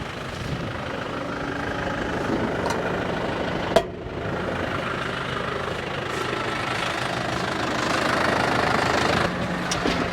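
A farm tractor idles on a sloping showground field with a steady, close engine rumble, one sharp knock partway through, and no talking.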